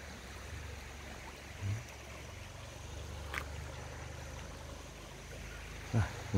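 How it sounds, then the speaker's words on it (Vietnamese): A stream flows through a Tày village of stilt houses, a soft, steady rushing heard faintly from some distance, with a few dull thumps and knocks breaking in. "Đây có một cái suối rất là đẹp các bạn ạ"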